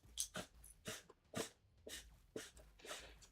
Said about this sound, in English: my dog has been randomly like he sounds like a pig